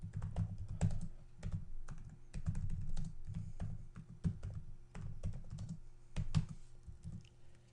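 Rapid, uneven keystrokes on a computer keyboard as a router command is entered, clicking in quick bursts with short pauses, close and fairly quiet, no talking.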